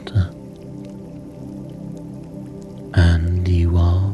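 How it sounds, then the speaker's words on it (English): Water drips and splashes in soft, irregular drops against a low, continuous wash of rain-like background, with a couple of louder wet bursts near the start and end. "the sound of the water"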